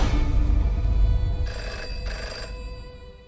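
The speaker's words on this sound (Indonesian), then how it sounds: "Setelah itu telepon rumahnya Eva berdering" A home telephone rings in a series of electronic bell trills, loud and close, over a low background hum that fades gradually toward the end.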